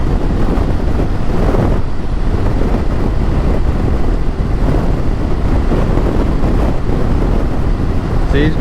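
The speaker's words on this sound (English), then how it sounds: "See, it's not even a very windy day, but I can really feel that wind coming across." Continuous, loud wind roar buffets the microphone on a Suzuki V-Strom 650 motorcycle ride, a dense low rumble that never lets up, with engine and road noise beneath it.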